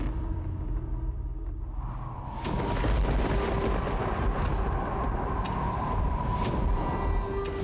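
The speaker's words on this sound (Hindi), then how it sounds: "बादलों की गड़गड़ाहट सुन दिल कांप गया।" Low rolling thunder rumbling through cloud-covered Himalayan mountains, steady and heavy, swelling louder about two seconds in and holding as a continuous deep roar.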